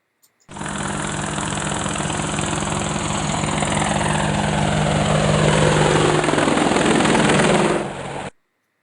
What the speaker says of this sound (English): Here's a helicopter passing the recorder.